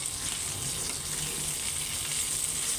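Food frying hard in a pan while fish dopeyaja is made, a loud, dense and constant sizzle up close, with no voices over it.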